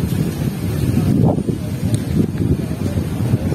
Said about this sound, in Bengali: খুব সুন্দর হাওয়াও দিচ্ছে